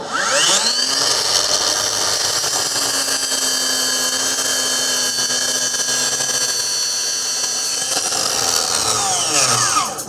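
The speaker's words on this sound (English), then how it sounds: "I'm gonna go ahead and put this in a compound miter right now" A compound miter saw spins up and cuts a deck board at a 45-degree bevel and miter, a loud sustained whining motor with the blade biting through wood, then winding down at the end.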